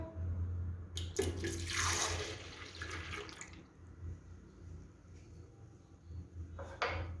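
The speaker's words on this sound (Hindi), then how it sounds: "सबसे पहले ब्लेंडर में दूध जाएगा," Milk pours in a steady splashing stream into a blender for a few seconds, followed by quieter kitchen clatter.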